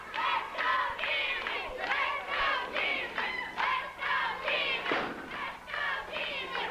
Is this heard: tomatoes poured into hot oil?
no